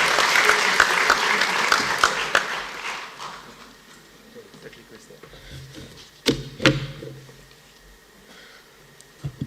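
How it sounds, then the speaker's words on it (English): A conference audience at a world summit on ethics and leadership in sports bursts into dense applause that rings for about three seconds, then tapers into scattered claps, with a few closer thumps and some talking later. "Big round of applause."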